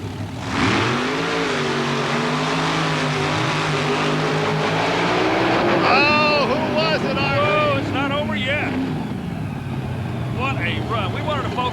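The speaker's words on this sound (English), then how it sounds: "get a little bit of the excitement in this sport when those motors start to roar" Drag racing trucks roar with rising and falling engine harmonics, loud and continuous, building to a revving burst mid-clip, with a voice talking over the noise.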